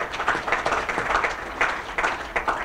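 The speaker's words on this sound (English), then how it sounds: "Katie Berry, please give her a round of applause." A school audience at a campus opening gives a round of applause for a staff member, with brisk, even clapping from a crowd filling the whole stretch and no voices.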